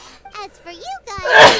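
A cartoonish sneeze from a Genshin Impact game character, a rising burst of breathy noise at the end that follows voiced dialogue.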